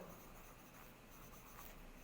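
A pen scratches on paper in short, quiet, continuous strokes, heard close up and alone.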